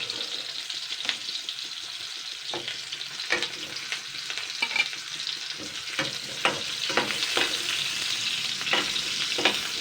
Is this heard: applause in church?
no